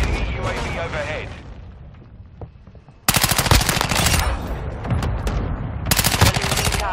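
Rapid automatic gunfire erupts in a video game battle: two loud, dense bursts of rattling shots, the longer one lasting about a second and the second one shorter, after a stretch of quieter battlefield ambience with voices.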